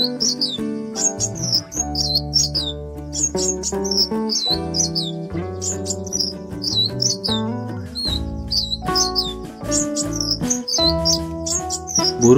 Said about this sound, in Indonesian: Yaitu burung kolibri muncak.